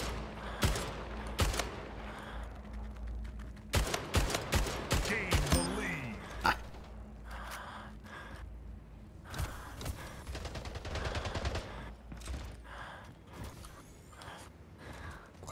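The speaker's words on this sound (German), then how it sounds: "Wo kamen die Schüsse her?" Gunfire in the first-person shooter Splitgate: several loud bursts of shots, some in rapid clusters, over constant game background noise with brief voice sounds.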